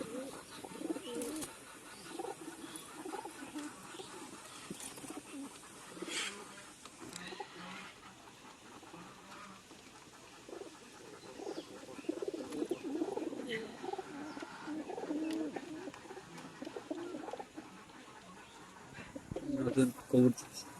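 Pigeons coo softly and repeatedly in the background while a person talks over them, with occasional flutters and shuffling nearby.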